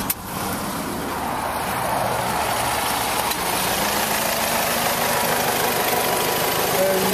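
A Ford Transit van engine idles smoothly and steadily close by, a low even rumble that holds constant throughout with a soft hiss over it.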